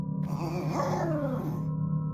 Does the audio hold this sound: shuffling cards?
no